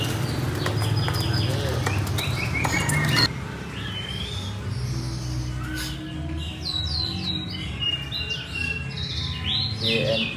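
A male white-rumped shama, or murai batu, gives repeated chirping whistles close by. Handling noise comes first, and people talk around the calls.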